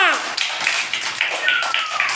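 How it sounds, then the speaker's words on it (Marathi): Children at an anganwadi centre clap together in a dense, continuous burst of applause, fairly close and loud throughout, with voices mixed in underneath. "सर्वांनी उभे राहा आणि टाळ्या वाजवा."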